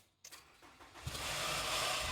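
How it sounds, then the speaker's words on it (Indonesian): A used car's engine cranks briefly after a few clicks, then starts and settles into a smooth, steady idle that rises and holds, heard close with no talking. "Iya, mesin halus tuh."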